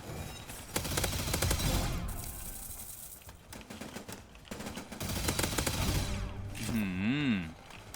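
Rapid gunfire from the Duel Blasters weapon in the Roblox shooter Hypershot, with dense bursts of shots through most of the stretch and a short warbling game effect near the end.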